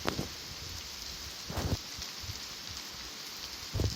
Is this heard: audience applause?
no